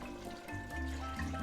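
Water pours steadily into a pot of simmering split pea soup, a continuous close splashing trickle that deepens as the pot fills.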